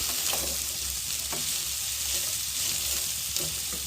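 Vegetables for Bengali-style veg chow mein sizzle in hot oil while being stirred, a close, steady crackling fry with occasional scraping clicks of the spatula.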